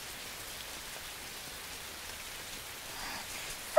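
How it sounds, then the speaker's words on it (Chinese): Rain falling softly and steadily, a faint continuous patter of drops on a surface at some distance, with a brief louder tap at the very end and no voices. "哎呀，下雨了呀！"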